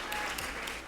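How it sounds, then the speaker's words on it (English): Audience applause at an aviation careers panel for the moderator and panelists, a dense, steady wash of clapping filling the whole brief moment. "So a big round of applause to the special moderator and his panelists."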